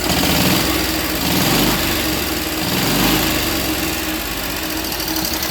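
A 1945 Cushman model 54 scooter's small single-cylinder engine runs steadily after a cold start, a loud, continuous close-up chug and rattle with no break and no voices.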